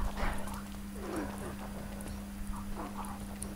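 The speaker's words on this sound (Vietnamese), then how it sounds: "Ô, tiếng chó thì phải." A dog barks in the survival video game Don't Starve Together: several short barks spread across the moment, over continuous game ambience and a low steady hum.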